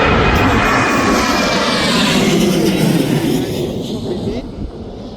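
Jet airliners, a Jet2 jet and a Boeing Dreamliner, at Birmingham airport, giving a loud continuous engine roar that stays close and powerful, then fades slightly toward the end.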